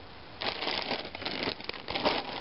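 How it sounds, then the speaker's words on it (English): A roll-up fabric storage bag with a broken zipper, full of clothes, is handled inside an RV, giving a steady run of crinkling, rustling and crumpling noises up close. "this is a roll-up kind of bag"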